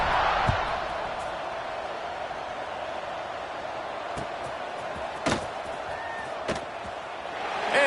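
A college football stadium crowd buzzes at a Georgia Tech at Colorado game during a kickoff, a steady far-off murmur broken by a few sharp thumps, one of them likely the boot striking the ball.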